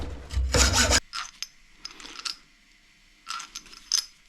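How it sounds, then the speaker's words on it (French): Metal cutting on a steel nut during air conditioning fault repair on a Maserati Ghibli GT: a loud rasping burst of sawing, then short scraping and grinding strokes, close by. "Donc je vais essayer de couper cet écrou au bout là."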